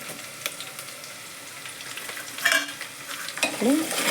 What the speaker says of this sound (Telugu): తర్వాత అల్లం వెల్లుల్లి పేస్ట్ వేసుకుందాం.